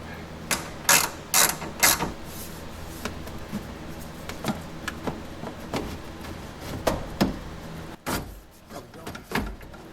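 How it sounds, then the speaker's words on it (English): Ratchet wrench backing out a T30 bolt on the rear strut of a Lamborghini Huracan Performante, giving sharp close clicks in short bursts separated by quieter gaps, with no talking. "So let me go ahead and back that one out"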